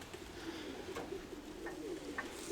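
Soft pigeon coos repeat a few times against a steady outdoor background hum, fairly close and not loud.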